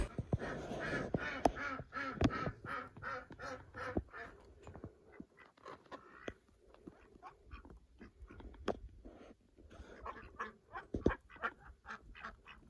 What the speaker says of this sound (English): as you can hear, the ducks and chickens are ready to come outside.